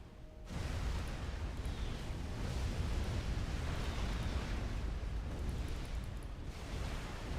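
Heavy rumbling artillery fire in the real-time strategy game Supreme Commander, a dense continuous boom and roar that swells in after a brief quiet start and holds steady, with no voices.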